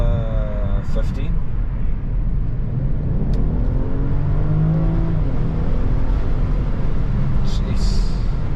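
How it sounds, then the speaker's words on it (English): A BMW X5 45e hybrid SUV accelerates from about 50, a steady engine and road roar with rising whine building throughout, heard from inside the cabin under a talking voice. "show you how it looks when I accelerate"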